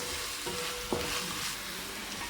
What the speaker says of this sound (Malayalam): സവാള ഇതിലിട്ട് നന്നായിട്ട് മൂപ്പിച്ച് കൊടുക്കണം.